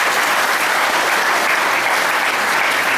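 Loud, dense audience applause at a youth meditation gathering, a continuous roar of many hands clapping evenly from start to finish.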